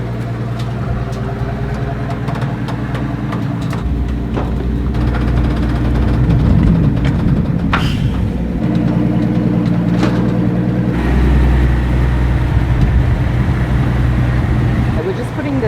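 The V12 biturbo engine of a Maybach Exelero idling and rumbling nearby, low steady drone with some revs swelling, while people talk over it.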